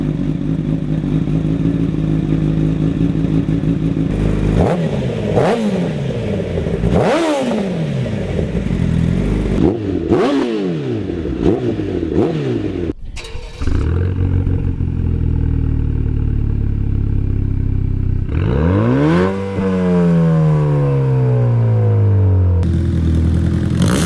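A Pontiac Trophy 4 inline-four engine runs loud and close, revving up and down repeatedly with rising and falling pitch sweeps and mechanical clatter, no talk over it.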